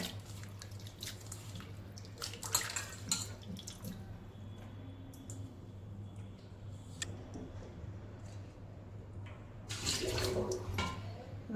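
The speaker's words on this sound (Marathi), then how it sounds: "आता साध्या थंड पाणी नॉर्मल पाण्याने आपण धुवून घ्यायचं" Dried bombil fish being rinsed in plain cold water, with soft trickles, drips and splashes over a steady low hum and a louder burst of sloshing near the end; no talking.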